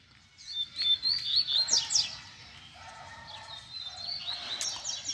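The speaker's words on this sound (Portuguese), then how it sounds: "Passarinhada voltando a esquentar, galera." Coleiros, or double-collared seedeaters, chirp and sing close by in lively bursts of high, quick trills and tweets, strongest early and then continuing more softly, with no talking.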